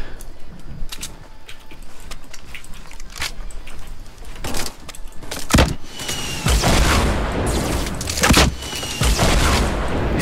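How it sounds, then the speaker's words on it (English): Gunfire in Fortnite crackles through a busy in-game firefight, with sharp shots scattered across the stretch, some near and loud, others farther off, over steady game noise with no talk. "I'm getting shot at from somewhere else"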